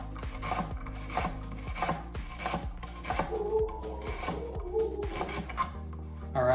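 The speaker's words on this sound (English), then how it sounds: "I'm just gonna chop it really quick." A knife chops an onion on a board in quick, steady, close strokes, each a crisp thud, with a brief slower scraping passage midway.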